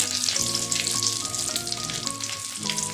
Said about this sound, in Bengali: কালো জিরে হালকা ভাজা ভাজা হয়ে গেলে দিয়ে দিলাম চিড়ে নেওয়া 2টো কাঁচা